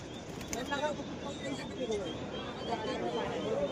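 Pigeons for sale at Beldanga Haat, a busy rural market, with soft cooing and faint wing flutters under a steady murmur of crowd chatter and nearby voices.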